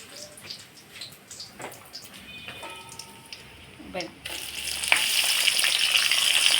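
Sliced onion hits hot oil with two torn bay leaves for a liver-and-meat curry, bursting into a loud, steady sizzle that starts partway through and holds to the end, after a stretch of quieter kitchen sounds and talking.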